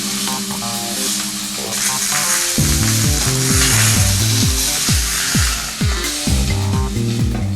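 Meat browning in a Durotherm pan, a loud hissing sizzle that runs throughout, joined midway by a rhythmic series of low scraping, grinding strokes.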